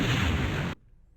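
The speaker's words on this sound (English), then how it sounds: "You have an explosion." An explosion sound effect from the Bismark bs-16i synth app fires as one loud, dense burst that lasts under a second and then cuts off abruptly to near silence.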